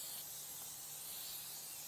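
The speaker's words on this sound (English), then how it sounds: "So I spray the grill so the fish doesn't stick." Olive oil spray hissing steadily onto an outdoor grill before fish goes on, a continuous breathy spray lasting the whole moment with no pauses, close and fairly quiet.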